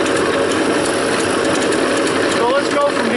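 A running car engine heard close up beside the alternator, a dense, steady whir with a faint ticking, mechanical rattle throughout at constant loudness.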